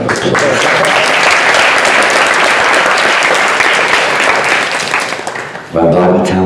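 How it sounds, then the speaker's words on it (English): A hall audience at an ISKCON temple lecture gives a sustained round of applause for the sound technician, dense clapping that fades out before a voice starts speaking. "give him a good round of applause"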